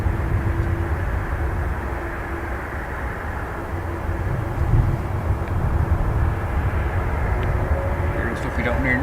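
An airliner taking off at Dublin Airport gives a steady, loud broadband engine roar and drone that holds throughout, heard from outdoors nearby with faint voices underneath.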